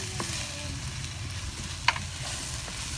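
Chili powder frying in chicken gravy makes a constant close sizzle, with gentle stirring scrapes and one sharp clink of the spoon against the pan.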